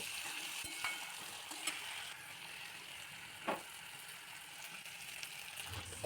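Fried onion sizzling in a pan with chilli, ginger and garlic paste being stirred in, a steady hiss of frying with a few sharp scraping clicks from the spoon, close and alone, for a Bengali ghugni.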